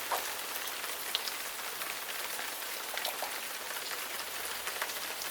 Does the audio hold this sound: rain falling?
yes